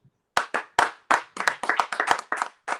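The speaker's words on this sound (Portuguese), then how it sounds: "Por isso eu queria receber Tiago aqui com palmas." An audience claps to welcome a speaker at a live talk: a short burst of about a dozen distinct, fairly close hand claps in an uneven rhythm, with no other sound around them.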